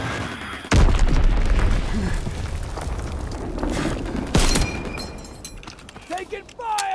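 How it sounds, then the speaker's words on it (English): A Fritz X guided bomb goes off in a WWII combat video game, a sudden heavy boom followed by sustained rumbling and debris, with a second sharp blast and crackling aftermath amid game noise and voices. "Fritz X bomb mission underway."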